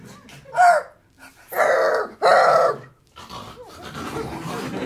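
A performer imitates a dog named Rufus during a live improv show, giving a short yelp followed by two loud, sustained barking or growling bursts, then a rougher lower stretch at the end.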